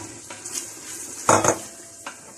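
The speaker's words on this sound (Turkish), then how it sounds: "Lahanamızı da koyalım. Güzelce kavuruyoruz ocakta." Borlotti beans and black cabbage with tomato paste being sautéed and stirred in a pot on the stove. A few sparse, faint scrapes and clinks of a utensil sound against the pot, with one louder stir in the middle.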